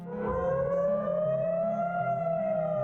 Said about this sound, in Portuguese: acordaram hoje assustados com os sons de explosões e sirenes de alerta